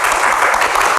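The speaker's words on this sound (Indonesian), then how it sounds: "Tepuk tangan untuk Seni" Loud, dense applause from a studio audience at an evening Q&A talk show, a steady wash of clapping that fills the whole moment without a break.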